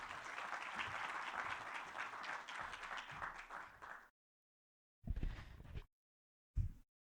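Conference audience at a Le Monde debate on public transport applauding warmly for about four seconds, fading out, then two short bursts of clapping separated by silence.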